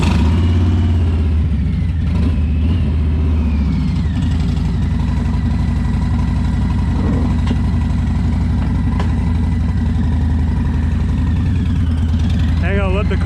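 A motorcycle engine running beside a short-bed pickup truck, a steady loud mid-pitched drone throughout with slight revving changes, while a person talks faintly over it.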